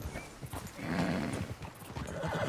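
Horse galloping in the video game Red Dead Redemption 2, rapid rhythmic hoofbeats thudding close and loud with a brief whinny, over light outdoor ambience.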